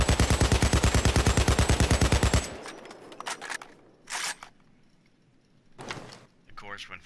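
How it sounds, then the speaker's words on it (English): An AKM assault rifle in Payday 2 fires a fast full-auto burst for about two and a half seconds. Scattered clacks, clicks and a few softer game sounds follow in a quieter stretch. "when fired full auto like that, the recoil just goes, you know, up a little bit zigzag"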